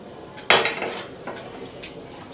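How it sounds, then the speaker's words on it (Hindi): A metal cooking pan clanks sharply once as oil is swirled in it, followed by softer rattling scrapes and a light clink, close and fairly quiet. "पहले तेल को ऐसे घुमा दूंगी"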